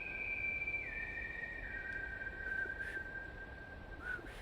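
A man softly whistles a slow, somber melody in an empty building, drawn-out gliding notes with a few faint clicks, quiet against steady background hiss.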